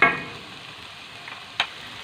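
Vegetables, including cabbage, sauté in a pan over a medium-high flame for a spicy chicken spaghetti. There is a brief burst of sizzling and stirring at the start, then a low steady frying hiss, with one sharp scrape or clink near the end.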